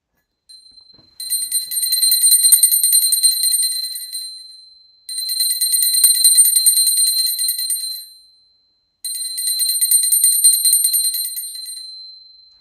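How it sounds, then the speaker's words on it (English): A small hand bell rung during a planetary pooja ritual jingles rapidly in three sustained bursts of bright metallic ringing, each lasting a few seconds with short silent gaps between, close and clear. "Now, I take a bell to offer the element of sound."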